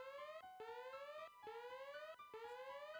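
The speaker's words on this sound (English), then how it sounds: "And then it starts doing a siren when you select it." Siren effect from an N64 game's erase-save menu, a synthetic rising tone that sweeps upward repeatedly in quick cycles of roughly three-quarters of a second, steady and clear with no talk.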